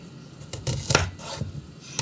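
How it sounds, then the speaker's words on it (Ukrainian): Onion being chopped on a board for borscht, a few close, irregular knife strikes and scrapes in a home kitchen, with faint background room noise and no talk. "я буду різати цибульку і морковку натру"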